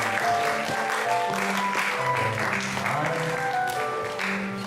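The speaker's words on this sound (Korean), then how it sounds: "박수로 환영해 주십시오." Church congregation clapping together to welcome students called to the front, a steady dense wash of applause lasting throughout, with a voice faintly audible underneath.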